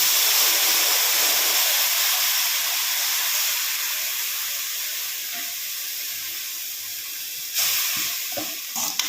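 Washed coriander leaves sautéing in a kadai give a steady, close hiss and sizzle that fades slightly over time, with a few soft clinks near the end.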